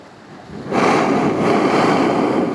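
Ocean wave surging through a hole in the coastal rock at Mundywari Beach in Balochistan, a sudden loud rushing whoosh that swells and holds, with strong wind buffeting close by.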